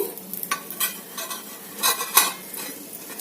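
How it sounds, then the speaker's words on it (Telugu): Breakfast ingredients frying until golden in a pan, with soft sizzling under repeated scraping stirs of a spoon, irregular strokes that rise and fall close by. "దోరగా వేగాలండి, దోరగా వేగితేనే బాగుంటుంది."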